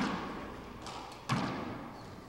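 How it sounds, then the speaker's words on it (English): Four-wall handball shot in a men's finals match, a single solid thud against the court wall partway through, echoing in the enclosed court over a steady background hiss. "Great shot there from Dave Chapman."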